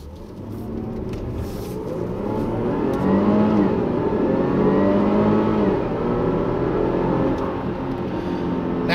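A 2016 Range Rover HSE with a supercharged V6 accelerates hard, its engine note rising steadily and loud from a nearby interior vantage.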